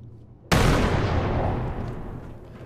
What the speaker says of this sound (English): Just gonna try throwing a grenade in here quickly.